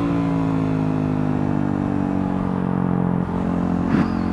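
A motorcycle cruising on a highway, a steady loud engine drone and wind roar carrying a persistent rattle, with a brief clunk near the end.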